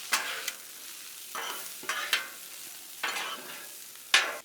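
Onions and bell peppers sizzle on a Blackstone griddle while a spatula stirs and scrapes them in repeated bursts, a soft steady frying hiss underneath the sharper scraping strokes.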